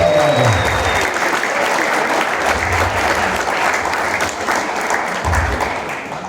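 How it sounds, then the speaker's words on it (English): Audience at a snooker club applauding, a loud, sustained wash of many hands clapping from a nearby crowd that holds steady and tapers slightly at the end. "big round of applause for Graham and the family for doing that"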